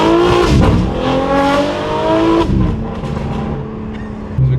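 A BMW G8x M3/M4 fitted with a Valvetronic Designs HFD midpipe exhaust revs hard and close, its raspy note climbing through the RPM, dropping back, then rising again with a brief crackle at the end.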